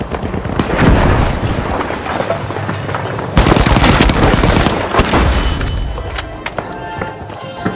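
In a video game arena match, a frag grenade blast lands amid ongoing machine-gun fire and booms, loud and dense, with a sharp burst around the middle and a later crack near the end.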